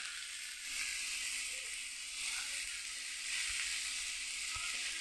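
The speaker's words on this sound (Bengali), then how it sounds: "এঁচোড় চিংড়ির জন্য আমি করছি, মশলাটা কষাচ্ছি।" Spice paste for a jackfruit and shrimp curry sizzles steadily in a pan as it is sautéed, a continuous close frying hiss with occasional soft stirring scrapes and no talking.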